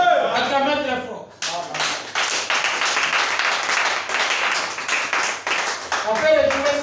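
A church congregation claps loudly in a sustained, dense burst after a brief pause. A voice speaks before and after.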